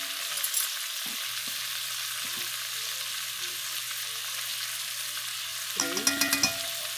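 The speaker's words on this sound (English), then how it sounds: "now I'm going to put a couple of tablespoons of flour" Beef sizzles steadily in a hot pan for beef bourguignon as a couple of tablespoons of flour go in, then a brief flurry of spoon scrapes and clatter breaks in near the end.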